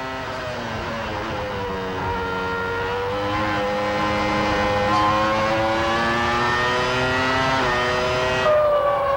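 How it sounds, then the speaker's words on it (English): Formula 1 race cars at the 1996 Australian Grand Prix in Melbourne, including a Brian Hart V8 engine, scream past with high, rising and falling engine whines that build and hold loud throughout, no talk heard. "A V8 engine from Brian Hart, who works miracles on very limited money for Jackie Oliver's team."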